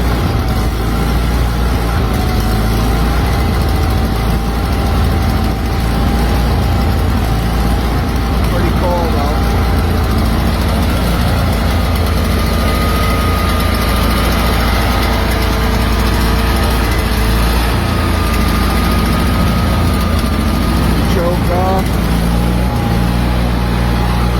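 A small engine with a pulled choke and a turtle-rabbit throttle switch runs at a steady, loud idle close by, a continuous droning hum with slight wavering in pitch throughout and no clear pauses.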